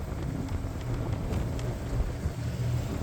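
Wind on Oneida Lake on a morning with a southwest wind, buffeting the microphone in a steady, rough, low rush with gusty swells and no talk.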